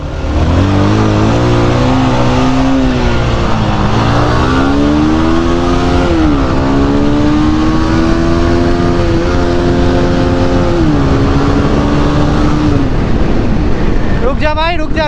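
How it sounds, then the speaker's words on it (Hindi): Yamaha R15 and Pulsar 220 motorcycles in a drag race, loud engines revving hard and rising through several gear changes, continuous and close-up throughout. "गाइज अभी ना एक छोटा सा ड्रैग रेस करने वाले हैं"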